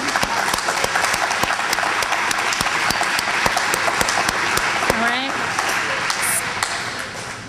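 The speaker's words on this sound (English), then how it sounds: "I think you guys deserve another round of applause." Audience applause at a career program graduation ceremony, steady dense clapping from a crowd throughout, with a brief whistle-like tone near the end.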